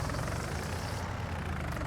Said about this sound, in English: I love that you can hear the revs increase as it's filling.